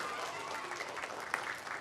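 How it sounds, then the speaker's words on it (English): An audience applauds a teacher of the month at a school citizenship training event, a steady, soft wash of many hands clapping at a distance. "let's give her a round of applause"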